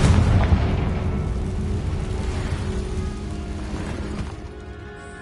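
A Confringo fire spell blasting in Hogwarts Legacy, a heavy booming burst at the start followed by a crackling, rumbling tail that slowly fades over several seconds, heard alone.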